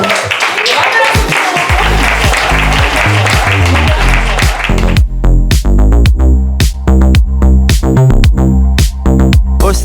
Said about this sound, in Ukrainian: Оплески всім сьогоднішнім учасницям.